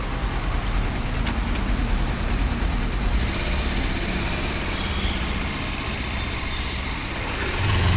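A Kawasaki twin-cylinder motorcycle being ridden gives a steady, dense engine and road roar that holds constant throughout, with a slight swell near the end.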